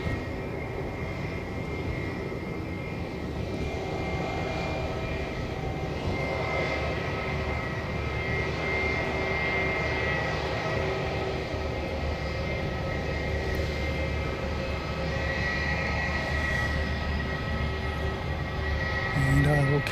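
A Jetstar jet passes at Christchurch with a sustained engine roar and whining tonal hum, fairly close and steady, swelling slightly near the end, while a voice talks faintly at times.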